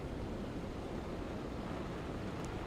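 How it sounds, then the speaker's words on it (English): Wind gusts and heavy rain during Hurricane Milton in Sarasota, Florida, a steady loud broadband roar of wind and rain with no voices. "we are also getting some decent gusts of wind right now. We're also getting a heck of a lot of rain."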